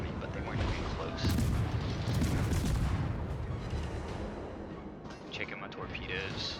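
Naval gunfire in World of Warships from a French tier 9 Mogador destroyer firing armor-piercing shells, with heavy booming blasts and a rumbling barrage that runs through most of the stretch, loud and dense.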